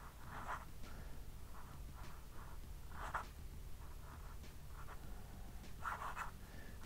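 Waterman 54 Ripple fountain pen with a firm, slightly flexible nib scratching across paper in short, soft strokes, a few louder pressured swipes standing out from a steady quiet background.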